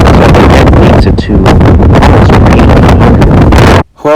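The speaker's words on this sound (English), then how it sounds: "because the wind is back" Gusting wind buffets an outdoor microphone with loud, continuous rumbling roar that drops away abruptly near the end.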